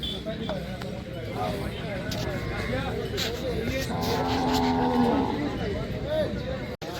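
Cattle moo at a livestock market on Ding Road in Sirsa district, several drawn-out lowing calls rising over steady crowd chatter and people talking nearby.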